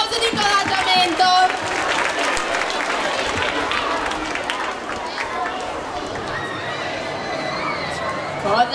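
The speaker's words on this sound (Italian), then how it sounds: "Un applauso di incoraggiamento." Steady studio audience applause with shouting and cheering voices at an Italian television show final, dense and continuous throughout, loud and close.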